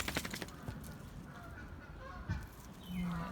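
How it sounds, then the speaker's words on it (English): Geese honking in a backyard with dogs nearby, a few short nasal calls at moderate distance over outdoor background noise. "Oh, geese."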